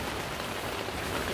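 Heavy rain pours onto a family camping tent in strong wind, a dense, steady hiss of drumming drops close by, with no voices.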